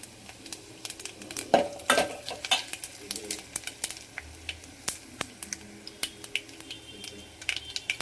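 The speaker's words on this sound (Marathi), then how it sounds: "हे बघा चांगलं मसाले आपल्याला इथं भाजून घ्यायचे होते." Spices dry-roasting in a pan for vada sambar, stirred with a utensil that gives frequent scraping clicks against the metal over a faint, light sizzle.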